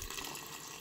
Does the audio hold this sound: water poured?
yes